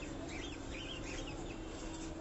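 Roosters kept as fancy birds on a rooftop in a crowded residential neighborhood cluck faintly and steadily over a low background hum, with no clear separate calls standing out.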